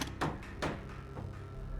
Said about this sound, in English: I basically took a bunch of construction and mechanical sounds and kind of just combined them in Audacity.